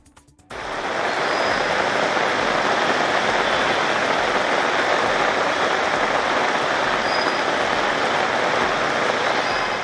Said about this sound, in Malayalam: സംസ്ഥാനത്ത് പെയ്യുന്നത് അതിശക്തമായ മഴ